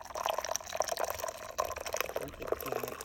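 Vanilla white chocolate hot cocoa pours into a glass with a steady liquid splashing and trickling, fairly close and continuous for a few seconds, with no talk over it.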